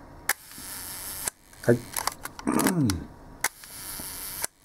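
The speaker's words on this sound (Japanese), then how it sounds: "シャッター音も聞いていただけると思います。" A 1955 early double-stroke Leica M3 shutter fires at a one-second speed, giving a sharp click and a second click a second later. Another pair of clicks follows, with a short spoken word and handling noise in between.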